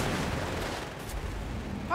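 Artillery shells from a Company of Heroes 3 match rumble and thud as a continuous dense barrage, loud and close, with a sharper burst near the end.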